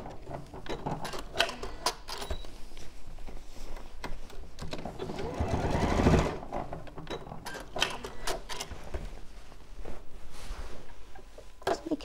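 A domestic sewing machine runs continuously with an odd, uneven mechanical rattle and clatter, building to a louder whirring burst midway before settling back into steady stitching noise.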